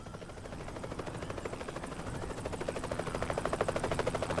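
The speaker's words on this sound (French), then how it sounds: "un hélicoptère survole la vallée du Fango." A helicopter flies over the Fango valley in Corsica, its rotor producing a steady, rapid chopping throb that grows gradually louder as it approaches, heard alone at moderate distance.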